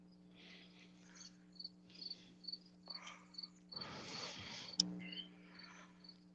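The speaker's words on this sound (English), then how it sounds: "Definitely getting a cricket on these headphones right now." A cricket chirps in a steady run of short, high pulses at moderate distance over a constant low hum. A brief burst of broadband noise and a sharp click break in partway through.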